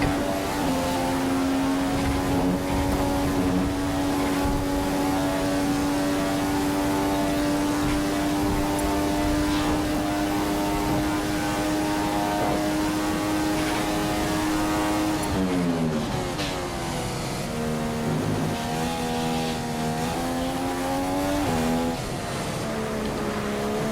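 Formula 1 car in the F1 2015 video game on a qualifying lap at Spa, Belgium, a continuous high-pitched engine whine climbing through gears, then dropping and rising sharply as it brakes and accelerates.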